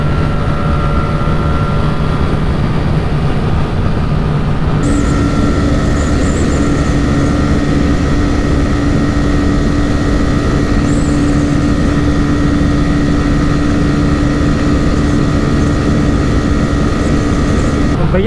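A TVS Raider 125 and a Pulsar 125 motorcycle in a drag race, their engines droning loud and close at high revs with a steady tone that shifts pitch partway through, heard without talk.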